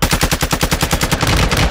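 Rapid bursts of automatic gunfire in Call of Duty, loud and close, with a fast rhythmic rattle of shots that keeps going for the whole stretch.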